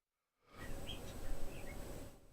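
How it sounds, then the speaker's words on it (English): A bird sings outside, a few short chirps heard faintly through a steady indoor hum. "If you can hear that bird outside,"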